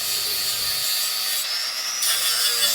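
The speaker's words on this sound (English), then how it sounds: "So all the welds on the outside of the C-shaped channel here, I'm going to grind perfectly flat." An angle grinder grinds welds flat on a steel C-channel, giving a steady, loud, high-pitched whine with abrasive hiss that shifts in pitch as the disc bears down.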